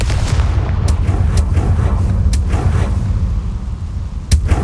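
Confringo fire spell blasting in Hogwarts Legacy, a loud, dense rumbling roar that fills the whole moment, with a few sharp cracks breaking through.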